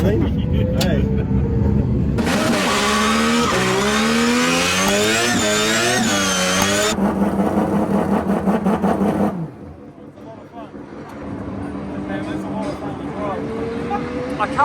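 A car fitted with a five-rotor rotary engine revs hard, loud and close, its pitch sweeping up and down through repeated throttle blips before it drops back to a rougher idle with voices talking over it.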